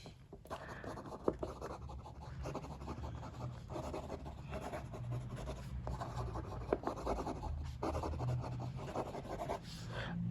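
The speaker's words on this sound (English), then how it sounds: "Let's do some quick writing." Pelikan M1000 fountain pen, a wet writer, scratching across paper in quick continuous strokes, close and fairly quiet with steady rubbing texture throughout.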